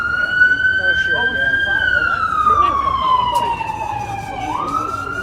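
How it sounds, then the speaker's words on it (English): An ambulance siren passes on a street outside a taco stand at night. A loud, steady wailing tone slowly bends downward in pitch as it goes by, with murmured voices and traffic rumble underneath. "Another ambulance."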